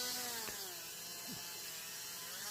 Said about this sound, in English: first we got to drill a hole through the rest of the way through